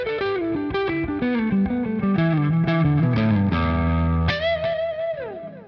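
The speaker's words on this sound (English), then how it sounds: "we throw a little bit of some distortion, some delay on it now" An electric guitar plays a fluid pentatonic lick through distortion and delay, with a fast run of sustained notes descending before a final bent note rings out and trails off in echoes, loud and alone.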